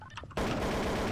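Gunfire in Garry's Mod, a loud burst of rapid automatic shots erupting suddenly after a brief quieter moment and continuing to the end.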